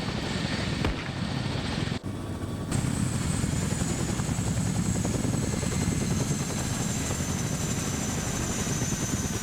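A helicopter in a military video game: steady rotor chop and engine whine, loud and continuous, with a brief dip early on and no voice over it.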